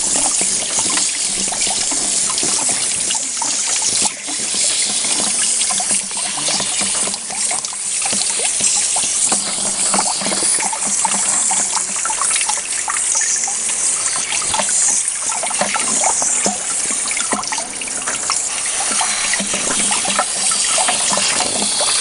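Water rushes continuously through a vintage Denver Gold Saver trommel fed by a pump, a loud, steady, close splashing gush that holds throughout with no talk over it.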